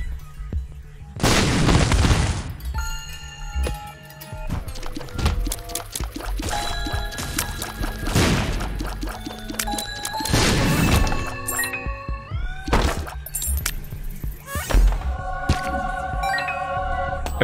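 Explosions from the video game The Binding of Isaac: Repentance go off as several loud, booming blasts amid a dense layer of clattering game effects, chimes and tones, with no talking.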